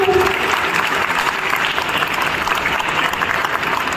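A room full of people at a school reunion claps steadily, a dense, even round of applause lasting a few seconds.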